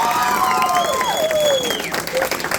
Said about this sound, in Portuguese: aplauda Jesus. Aplauda.